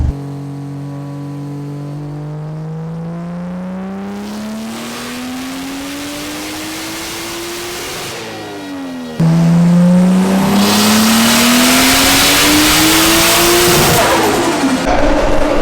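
A 528 hp Toyota Supra accelerating hard on the street, with two loud engine pulls climbing in pitch through the revs, the second louder and closer, each ending in a quick shift, and no voices.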